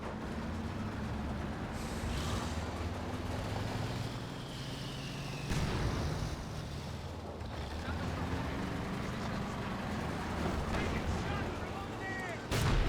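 Tank cannon and artillery fire in Company of Heroes 2, booming blasts over a constant rumble of engines and battle noise, with a couple of louder hits standing out. A voice talks over the fighting.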